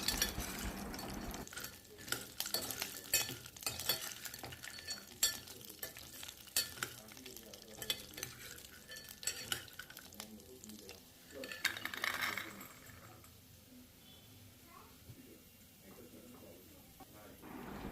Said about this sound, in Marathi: त्यामध्ये हे सांडगे परतवून घ्यायचे आहेत, खरपूस चांगले